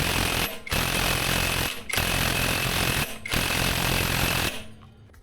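An impact wrench tightens bolts on a Honda Click 125 scooter during CVT maintenance. It hammers in four loud, sustained bursts separated by short pauses, then cuts off and leaves quiet.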